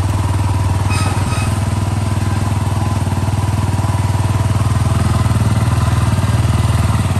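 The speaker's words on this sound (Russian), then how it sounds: "Завелся мотоцикл с полоборота" A Yamaha WR250R motorcycle with about 13,768 on the odometer idles steadily after a cold start, its loud even single-cylinder putter pulsing close by without talk.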